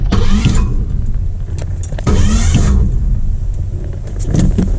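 An old Ford Galaxie 500, abandoned in a barn since 1993, cranking over in two bursts of starter grinding and engine turning, close and loud, without catching, amid a steady low rumble.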